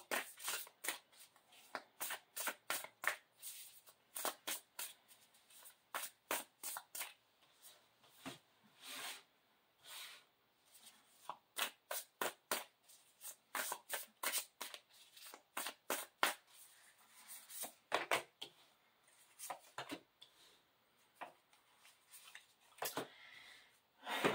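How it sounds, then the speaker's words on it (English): Playing cards shuffled over and over, rapid crisp riffling bursts in quick succession, close and quiet with no talking. "I need bigger hands to shuffle these cards."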